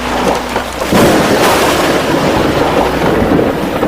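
Stormy weather at sea for an animated children's story: heavy rain hisses steadily while thunder cracks and rumbles loudly, with no voices over it.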